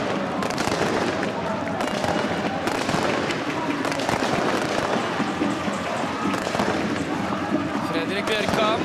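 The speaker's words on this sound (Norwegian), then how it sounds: "Her er fyrverkeri og kjør." Fireworks crackle and pop continuously at a Norwegian Eliteserien football stadium during a Bodø/Glimt versus Tromsø match, a dense, loud barrage blended with crowd noise while a commentator talks over it.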